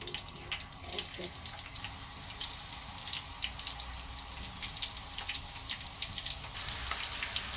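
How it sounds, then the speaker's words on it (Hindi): Spiral-cut potatoes fry in hot oil in a pan, making a dense, steady crackle of popping bubbles that continues close and evenly throughout. "अब मैं इसको इसके अंदर फ्राई करूँगी ऐसे"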